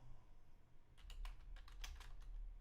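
Keys clatter on a computer keyboard in a quick irregular burst of clicks, starting after a second of quiet room hum and running to the end, fairly close and moderately loud with no talk.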